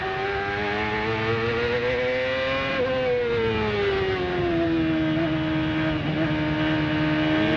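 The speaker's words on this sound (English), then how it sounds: "Listen how gingerly he applies throttle now. Creep, creep, creep. Short shifts." A CART race car on the Portland circuit in 2001, its engine held at gentle throttle with short shifts, giving a steady, loud, buzzing whine whose pitch climbs and dips between gear changes. No one speaks.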